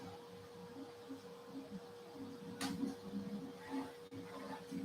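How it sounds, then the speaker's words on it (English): A Bambu Lab 3D printer runs its self-test, producing a low, pulsing motor hum with repeating whirring movements and a steady tone, plus a brief louder clatter partway through, heard close and moderately quiet. "on this printer here, we are just about to start the self-test."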